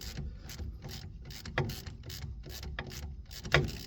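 Ratchet wrench clicking on a brake bolt during a disc brake conversion on a 1954 Mercury Monterey, steady repeated ratcheting strokes with a couple of louder clunks, close and clear.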